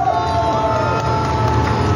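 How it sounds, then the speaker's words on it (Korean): A dense, steady roar of applause and cheering rises from an outdoor crowd at a political rally in Busan, filling the whole stretch without pause. "다시 한번 큰 박수로 맞이해 주시기 바랍니다."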